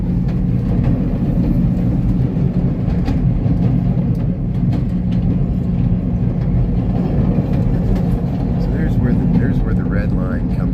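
A continuous low rumble of a Chicago subway train rolling along the track fills the whole stretch, loud and steady, with faint squeals and clatter on top.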